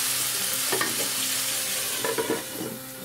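Chopped chayote and tomato sautéing in a pan, a steady close sizzle with several bursts of spatula scraping and clacking as the vegetables are stirred, no voices.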